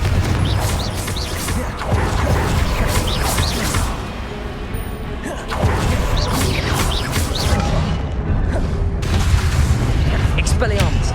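Heavy booming blasts from the Confringo explosion spell in a Hogwarts wizarding video game, bursting repeatedly over roughly eleven seconds amid crashing effects and shouted voices.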